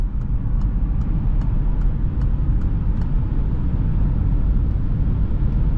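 A Peugeot e-208 electric hatchback of 136 HP accelerates hard uphill in sport mode from 80 to 120 km/h, heard from inside as a loud steady rush of road and wind noise with a faint ticking pulse on top.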